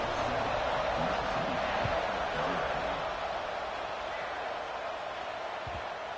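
A college football stadium crowd at Mississippi State versus Arkansas gives off a steady, dense roar at kickoff after the opening touchdown. The noise holds loud and unbroken throughout.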